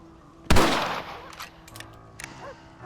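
A single sharp rifle shot cracks nearby in Red Dead Redemption, followed by a short echoing decay and faint background ambience.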